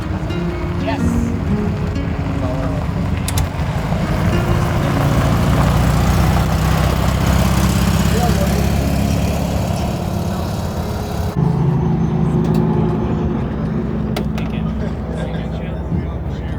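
An overlanding vehicle driving in Utah, its engine a steady low rumble with road and wind noise throughout, shifting in tone partway through.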